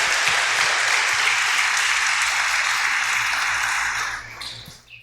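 A church congregation claps loudly, a thick, continuous wash of applause that stays full for about four seconds, then thins out and fades with a few scattered final claps.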